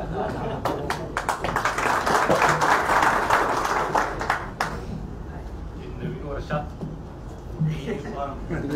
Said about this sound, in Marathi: टाळ्या वाढल्या म्हणजे स्पिरिट वाढलं ना